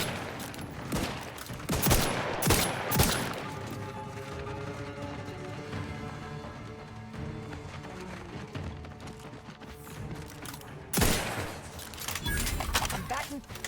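Gunfire in The Outer Worlds video game comes in loud, rapid bursts of shots early on and again near the end, separated by quieter stretches with voices in the background.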